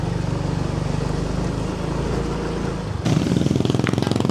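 A motorcycle engine idling close by with a steady rapid putter, then a sudden louder burst as the throttle opens near the end.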